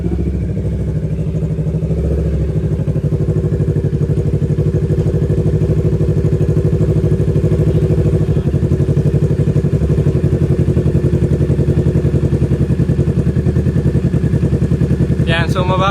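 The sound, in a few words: motorcycle engine warming up at idle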